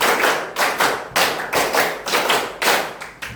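A classroom of students claps hands together in a rhythmic pattern, sharp group claps falling in short repeated bursts with clear gaps between groups.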